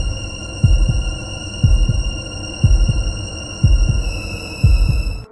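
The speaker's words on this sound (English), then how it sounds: "Her heart beat faster, and a creepy feeling spread throughout her body." A loud, close heartbeat sound effect thumps in regular double beats, about one lub-dub per second, over a steady high eerie drone.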